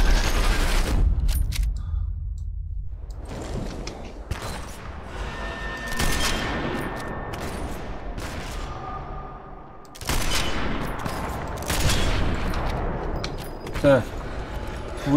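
Sniper rifle fire in the video game Sniper Elite 4, loud sharp shots with booming tails that come at intervals and are separated by quieter stretches of game sound.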